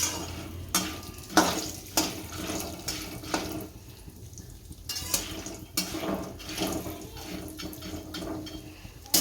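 Peanuts already roasted are fried again in hot oil for masala sing, with stirring scrapes and bursts of soft sizzling repeating at close range, some louder clatters between quieter stretches, no voices.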